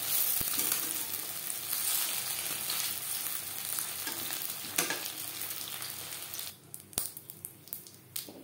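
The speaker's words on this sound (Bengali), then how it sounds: "প্রত্যেক ব্যাচের পাকোড়া একইভাবে ভেজে নেব" Egg pakoras sizzle in hot oil in a pan, a loud, steady crackling fry that carries on throughout, then thins near the end into scattered pops and clicks.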